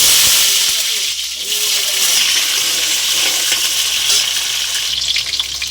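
Potatoes frying in hot oil seasoned with cardamom, cinnamon, bay leaf and black pepper, a steady close sizzle and hiss with some stirring, continuous throughout with faint background voice.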